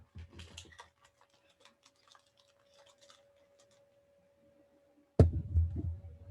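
Light typing on a computer keyboard, soft scattered key taps for several seconds, then a sudden louder knock and rumbling handling noise near the end.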